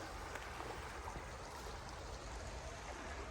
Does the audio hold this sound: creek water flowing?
yes